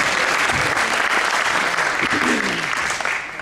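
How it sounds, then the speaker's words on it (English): An audience in a Presbyterian church claps their hands, a loud, continuous burst of applause with voices murmuring underneath, tapering slightly toward the end. "you can clap your hands"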